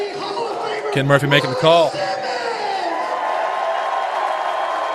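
Wrestling event crowd cheering and applauding in an arena, a broad sustained roar that continues under a commentator talking near the mic, then carries on alone at a steady loud level.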